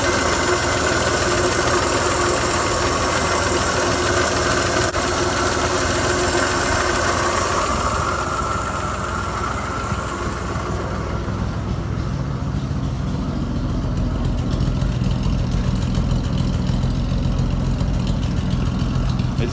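A 1952 Deluxe truck's six-cylinder motor runs steadily for the whole stretch, a loud, close, rumbling idle with constant vibration and no talking over it.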